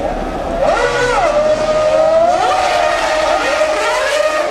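Ferrari Formula One V8 racing engines revving toward 18,000 RPM at a Ferrari Finali Mondiali event, loud high-pitched wails sweeping up and down through several gear changes in a continuous close pass.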